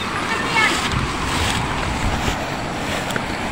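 A broad flooded river, swollen by Typhoon Egay in Aborlan, rushes past as a steady, loud roar of churning water with gusty wind noise buffeting the microphone throughout.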